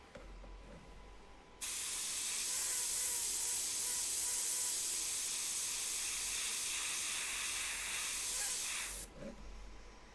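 An airbrush blows a burst of air to clear a dried tip, a sudden loud steady hiss that cuts in, holds for about seven seconds and stops abruptly, with quiet room tone either side.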